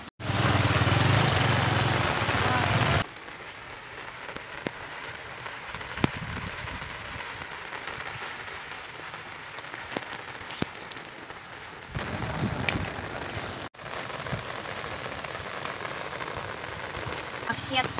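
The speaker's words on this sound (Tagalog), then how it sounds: "Lakas na naman ng ulan." Heavy rain pours down during Typhoon Carina. A loud close downpour drums for the first three seconds, then a steadier, quieter patter continues with occasional sharp drops and a brief cut near the end.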